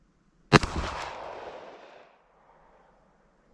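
A single sharp report from a Beretta APX A1 Compact pistol at the range, loud and close, followed by a brief echoing decay.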